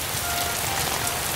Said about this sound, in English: It is now raining.